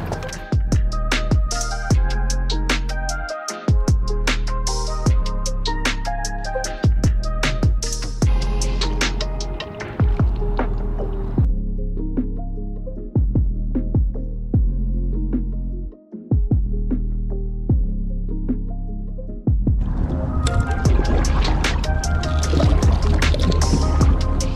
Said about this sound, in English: Let's go kayaking.